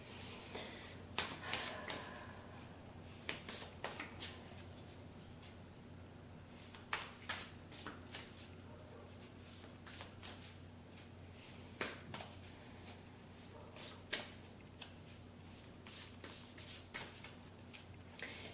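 Tarot cards being shuffled and handled during a reading: repeated crisp riffling bursts and card slaps spread through the clip, fairly quiet against a steady low hum, with no voices.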